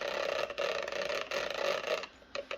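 Steady mechanical whirring with rapid clicking from the magnetic stator of a Makita 18V LXT line trimmer motor, pulsing in bursts and pausing briefly, close and moderately loud with no voices.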